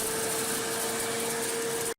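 A Parkside garden leaf shredder runs in vacuum mode with a steady, loud mechanical whine and airy roar that holds constant, then cuts off abruptly at the end.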